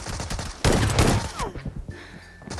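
Shotgun fire in the battle royale game PUBG Mobile: a few sharp shots ring out, one heavy close blast around the middle, followed by softer clatter and a brief tone.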